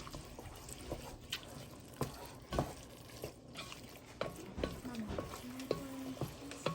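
Drained, rinsed kidney beans stirred and warmed in a pan, with scraping strokes and a soft sizzle in short bursts, and a voice humming or talking faintly in the background.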